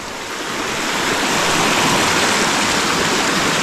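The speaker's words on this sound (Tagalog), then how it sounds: "Ang bilis na kabaha tay" Fast-rising floodwater rushing during heavy typhoon rain, a loud, dense, continuous roar of churning water that swells slightly at the start and then holds steady, with no voices.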